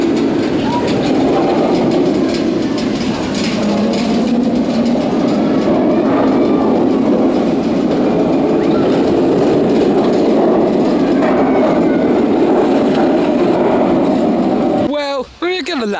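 A theme park ride train runs along its track at Oakwood Theme Park, a loud continuous rumbling roar of wheels on rails with rattling clatter, close by, ending in a sudden sharp squeal.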